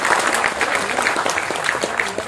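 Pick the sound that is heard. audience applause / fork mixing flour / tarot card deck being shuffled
audience applause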